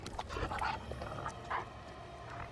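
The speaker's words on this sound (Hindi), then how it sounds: "वो कुत्ता।" Dog in a tense movie scene giving short whimpers and yips, a few bursts close together with quiet gaps, moderately loud over a dim background.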